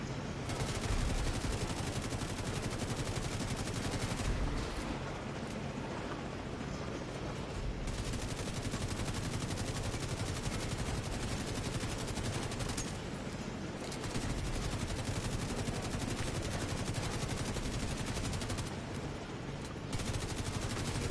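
Sustained automatic gunfire from a gun in The Division 2, dense and continuous at close range with brief dips, no talk.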